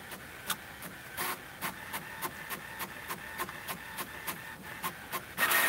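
A new printer runs through a print job, giving a close, steady series of rhythmic mechanical clicks and thumps, ending in a louder whirring feed.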